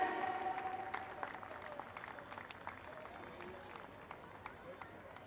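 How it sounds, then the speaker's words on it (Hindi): Audience applause welcoming the Delhi Chief Minister at a public event, a dense patter of clapping from a crowd that gradually fades, with voices mixed in. "करतल ध्वनि आप लोग स्वागत ताली बजाते रहे"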